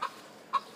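A chicken gives two short, soft clucks about half a second apart, faint and close, with nothing else around them.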